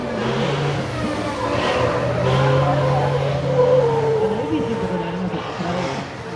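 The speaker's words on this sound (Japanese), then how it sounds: "この2台がデモンストレーションをしていてぐるぐると回っているところ" Two large Honda and Toyota demonstration cars circling at the Suzuka motorsport festival, a continuous engine drone rising and falling as they pass, steady and moderately loud with crowd ambience underneath.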